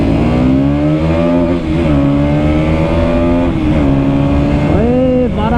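KTM Duke 200 and Bajaj NS200 motorcycles accelerate side by side in a drag race, loud sustained engine drone with rising and shifting pitch as they pull through the gears, close and continuous with no talk.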